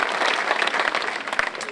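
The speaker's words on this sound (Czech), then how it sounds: "Co kdybychom Adelce zatleskali, je poprvé na pódiu" Audience applause for a young child dancer appearing on stage for the first time at a folk dance event, a steady burst of clapping from many hands lasting under two seconds.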